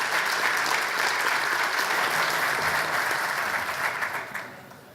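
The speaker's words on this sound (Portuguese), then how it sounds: "eu peço uma salva de palmas para ele" Sustained audience applause at a labor and tax reform symposium, dense steady clapping from a large crowd that holds loud for about four seconds before tapering off near the end.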